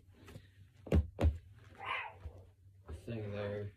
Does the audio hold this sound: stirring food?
no